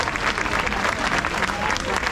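A crowd applauds at a street protest rally at Place Denfert-Rochereau in Paris, dense sustained clapping with a voice faintly heard through it.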